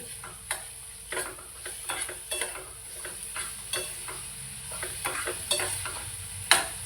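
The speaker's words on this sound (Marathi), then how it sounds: "आता मी हा कांदा डळून घेते" Onion is stirred in a pan with salt and asafoetida, giving a soft frying sizzle under repeated close clicks and scrapes of a spoon, with no talking.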